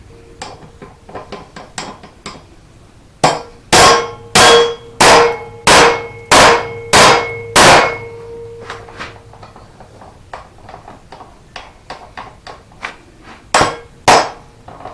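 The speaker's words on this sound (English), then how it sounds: "we're going to drive that shaft on out the bottom" Hammer blows drive a shaft out of a John Deere D105 mower deck: a rapid run of about eight loud metallic clangs, then lighter, scattered taps on the metal, close and without speech.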